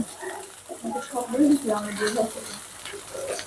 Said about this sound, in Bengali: দিয়ে এসে ডিম ভেজে দিচ্ছি